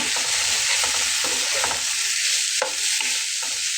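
Ground spice paste is stirred and sautéed in hilsa oil in a pan for a hilsa fish curry, a steady close sizzle with scraping stir strokes, no talk.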